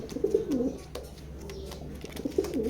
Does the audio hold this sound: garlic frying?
no